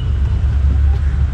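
Steady low engine and road rumble surrounds a vehicle stuck in dense Mumbai traffic, a continuous, fairly loud drone with no distinct horns or passing cars standing out.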